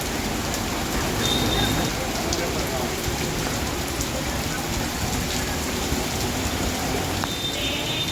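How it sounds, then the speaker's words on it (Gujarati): Heavy monsoon rain in Rajkot, Gujarat pours down in a dense, steady roar, drumming on surfaces close by without a break. "એટલો મૂછળાધાર વરસાદ પડી રહ્યો છે"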